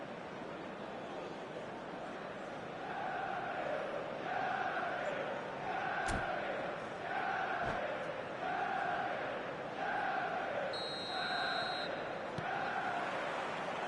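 A stadium crowd in the eFootball video game chants in a steady rhythmic pattern over a constant roar, repeating about eight times, with a couple of sharp claps or bangs mixed in.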